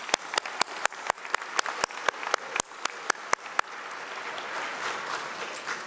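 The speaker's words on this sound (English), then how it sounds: "let's have a round of applause for all our faculty and staff" Applause at a college graduation ceremony for faculty and staff, with loud, sharp individual claps close by in a steady rhythm over a softer crowd of clapping that carries on alone.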